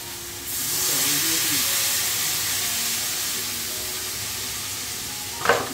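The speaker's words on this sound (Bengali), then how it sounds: "অল্প একটুখানি মশলা দিয়ে কষে ঝোলটা চাপিয়ে দিলাম।" A fish curry with a little masala simmers and sizzles in a pan, a steady hissing bubble that holds evenly, with a brief clatter near the end.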